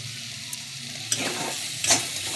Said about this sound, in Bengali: নুনটাকে দিয়ে একটু ভালো করে কষাবো